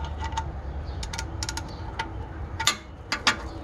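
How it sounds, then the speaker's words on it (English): A wrench tightening a car's oil drain plug gives a series of small ratcheting clicks, irregular and close but modest in level, over a steady low background hum without talking. "Get your wrench on there. And you just tighten it up."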